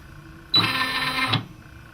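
The carriage of a Brother PE770 embroidery machine moving on its own, a single close whirring motor run of just under a second that starts and stops abruptly against a quiet room.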